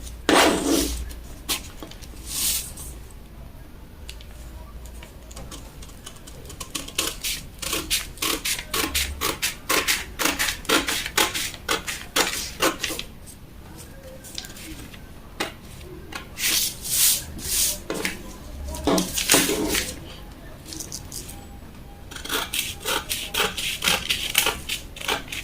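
Scissors cutting out a paper corset pattern piece, rapid rustling snips and crunching paper in repeated bursts with short pauses, close and fairly loud.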